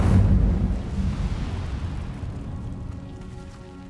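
A fiery spell bursts in Hogwarts Legacy, a loud whooshing blast at the start that rumbles and fades away over a few seconds, with no voices.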